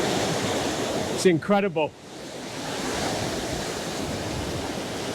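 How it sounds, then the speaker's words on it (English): Heavy water rushing down the falls at the Three Sisters, Glencoe, a steady broad roar of torrent and wind noise throughout, with someone briefly speaking over it. "So just have a look at the amount of water that's coming down now."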